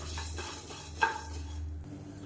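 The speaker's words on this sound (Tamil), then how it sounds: "ஒரு டீஸ்பூன் போல் எண்ணெய் விட்டுக்கலாம் இதில் மெஷரிங் கப்பில் கால் கப் அளவுக்கு பருப்பு சேர்த்துக்கலாம் இப்போ இதையும் நல்லா சவக்க வறுத்துக்கலாம்" Lentils dry-roasting in about a teaspoon of oil in a pan, heard as soft stirring scrapes and a single sharp utensil clink over a faint, low sizzle.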